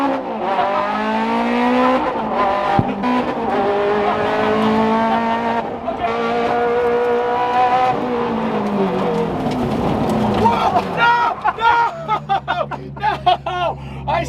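Ferrari 430 supercar spinning out, its engine screaming through rising and falling revs with tires squealing, then a voice shouting over it near the end.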